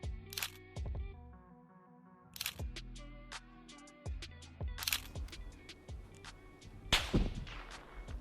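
Sharp gunshots in PUBG on the Miramar map crack out one after another at uneven intervals, some single and some in quick pairs, with a low rumbling background between.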